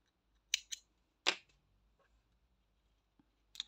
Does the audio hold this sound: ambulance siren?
no